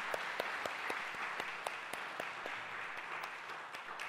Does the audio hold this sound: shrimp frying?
no